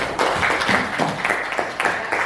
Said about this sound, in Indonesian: sebelumnya kita beri tepuk tangan untuk kelompok 2